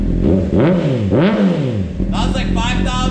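A Honda CBR600 motorcycle fitted with an Invidia N1 Subaru exhaust tip revs loudly up close, its pitch sweeping up and falling twice before settling into a rough, clattering idle.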